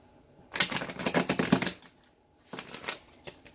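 Tarot cards riffle and shuffle in two quick bursts of rapid, crisp flutters, close by, with a brief pause between them.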